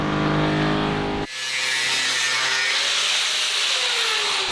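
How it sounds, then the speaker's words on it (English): Workers driving bolts into a ceiling with power tools inside a centuries-old watermill, a loud close motor whine with a pitched drone that cuts off abruptly into a steady harsh mechanical roar continuing to the end. "You can just hear them screwing those bolts and pushing them up, making those holes into the top of the ceiling"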